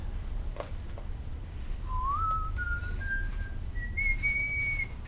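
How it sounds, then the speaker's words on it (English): A person whistles a slow, rising series of sustained notes, each held briefly, over a low steady hum after a couple of faint taps. "I do a lot of whistling."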